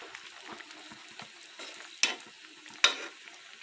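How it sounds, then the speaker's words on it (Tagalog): Beefsteak frying in a pan gives a soft, faint sizzle, broken by two sharp clinks of a utensil against the pan, with no talking. "nagluluto po ako ng beefsteak para sa aming hapunan"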